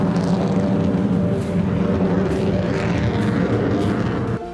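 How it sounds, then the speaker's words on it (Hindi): Chinese H-6 bomber flying near Taiwan, a loud, steady engine roar that drones on without a break, with no voices. "चीनी बॉम्बर H-6 भी ताइवान के पास आसमान में उड़ते देखा गया था।"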